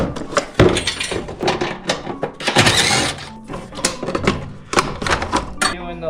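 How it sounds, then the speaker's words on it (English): Wrenching on a Toyota Yaris race car's last transmission bolt during clutch and flywheel work gives close, busy metallic clanks, ratchet clicks and knocks in an irregular rhythm. "Doing the last transmission bolt right now"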